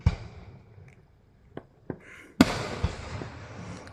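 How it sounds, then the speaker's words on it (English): Loud fireworks at a nighttime display, with a few scattered crackling pops followed by one heavy boom whose rumble and crackle linger for over a second. "some of the fireworks are so loud"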